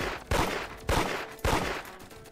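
Video game gunfire from a weak weapon in a flag-capture match, with three sharp shots spaced about half a second apart, punchy and close.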